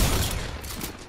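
Rapid bursts of gunfire from the Fortnite video game crackle in a dense volley, loud and steady, with no talk.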